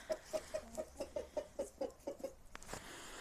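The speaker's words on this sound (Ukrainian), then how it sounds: "Ну, це наші кури, що в нас лишилися" Chickens cluck in a steady run of short, close calls, about a dozen in quick rhythm, with a soft farmyard rustle underneath and no talking.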